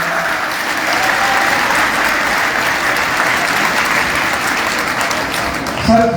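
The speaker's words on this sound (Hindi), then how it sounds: "ताली बजाओ।" Sustained applause from an audience at a political gathering at a coaching centre, dense steady clapping holding at an even level for several seconds, with voices faintly under it.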